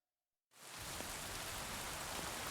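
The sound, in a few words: hail falling in video game Kingdom Come Deliverance 2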